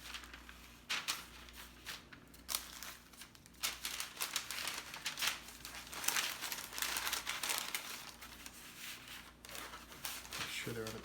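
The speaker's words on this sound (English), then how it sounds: "take my new piece of parchment paper" Parchment paper crinkles and rustles in bursts as it is handled in a kitchen, close and fairly quiet, with uneven crackling throughout.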